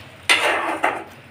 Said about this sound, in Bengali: দিয়ে ভালো করে নেড়ে দেব